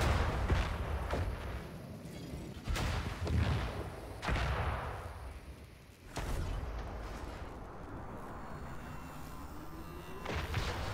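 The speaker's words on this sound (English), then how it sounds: "They're laser attacks. Just constantly firing." Constant laser attacks in a space battle game, a busy stream of repeated zapping shots and thuds layered over a dense, noisy background, steady and loud throughout.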